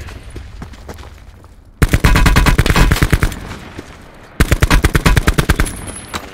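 Automatic gunfire in a video game shooter: two loud rapid-fire bursts, the first lasting about two and a half seconds and the second nearly two seconds, each a quick train of sharp shots.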